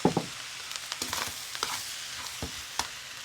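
Teriyaki sauce sizzling as chicken fried rice is stirred in a hot pan, a steady faint hiss with soft scraping stir strokes throughout.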